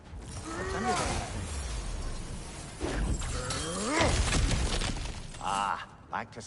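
In God of War Ragnarok, cracked ground is smashed through, giving heavy crunching, shattering impacts with rumbling debris, while voices talk over and between the breaks.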